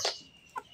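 Chickens pecking at chopped cabbage and tomato let out two short, close clucks separated by a brief quiet pause.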